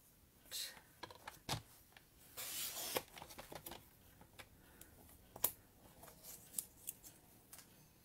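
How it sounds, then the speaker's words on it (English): Scissors trimming a paper card sentiment, a series of quiet close snips and light paper rustles at irregular intervals. "we're going to trim the sentiment"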